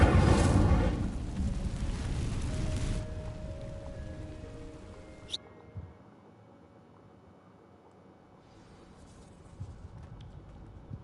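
A fire spell ignites dry vines in Hogwarts Legacy: a loud broadband roar of flame for about three seconds, then a quieter crackle with a few small pops as the fire burns down.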